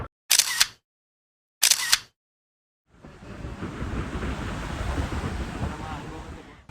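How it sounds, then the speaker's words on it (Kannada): Strong wind roars over waves washing onto a rocky beach by a Pondicherry resort during Cyclone Fengal, a steady broadband rush after two sharp camera shutter clicks. "ಇದು ರಾಕ್ ಬೀಚ್ ಆ್ಯಂಡ್ ತುಂಬಾ ಗಾಳಿ ಇತ್ತು"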